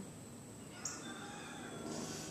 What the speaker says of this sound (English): Then the rooster crows.